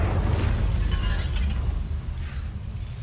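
A fire spell, Incendio, cast in a Hogwarts video game, bursting out as a loud, sustained roaring whoosh of flame with crackling that holds for about two seconds, then eases slightly toward the end.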